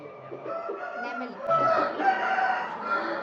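A Nemali game fowl, a fighting rooster, crows nearby in a drawn-out, strained call lasting a couple of seconds, with faint background sounds around it.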